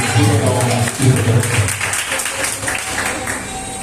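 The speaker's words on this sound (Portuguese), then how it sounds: "Levanta a mão e aplauda ao Senhor, porque Ele é digno." Congregation in a Brazilian church service applauding, dense clapping mixed with loud crowd voices and music tones throughout, settling slightly toward the end.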